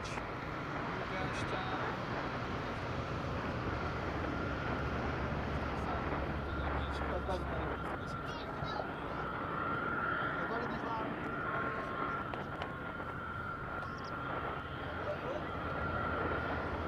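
An airplane lands at Madeira Island Airport, a steady broadband roar that holds loud for the whole stretch, with voices murmuring underneath.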